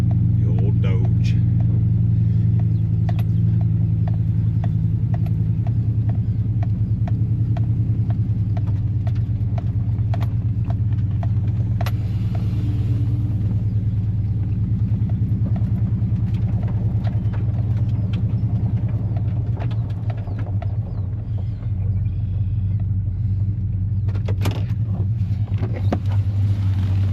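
An old Dodge truck engine idles with a steady, deep low rumble close by, a heavy continuous drone running the whole time beneath ongoing conversation.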